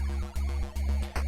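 A loud, bass-heavy boss-encounter sound from River City Ransom: Underground throbs in short repeating swells, an ominous pulsing drone with no voices.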